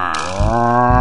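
A human voice imitates a water buffalo's moo in an animal-sound contest song, giving one loud, sustained, low lowing call that swells midway and holds to the end.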